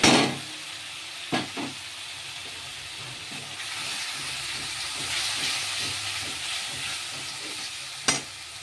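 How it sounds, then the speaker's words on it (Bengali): Spice masala sautéing in a pan for a fish-head and bottle gourd curry, a steady soft sizzle with rhythmic stirring scrapes and a couple of sharp clanks of the spoon against the pan. "মশলাটা একটু কষাতে হবে।"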